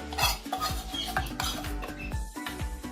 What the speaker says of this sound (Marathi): आणि आता आपण हे एकदम मिक्स करायचं